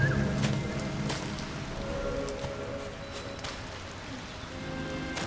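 Steady patter of rain in the video game Sky: Children of the Light, with soft hiss and scattered drop ticks, continuous and moderately faint throughout.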